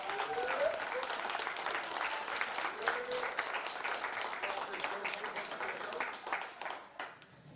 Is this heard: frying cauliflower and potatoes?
no